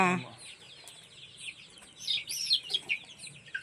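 A native chicken clucks close by in a quick run of short, bright clucks and chirps that grows busier toward the end, over a quiet background.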